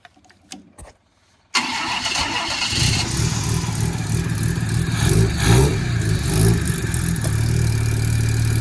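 A rotary engine on a homebuilt trike cranks briefly, then catches and fires up into a loud, steady buzzing idle with a slight rev, close by and with no talk over it.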